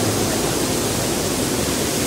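Bhivtas waterfall at Surgana roaring as a dense, constant wash of falling water, loud and close with no break.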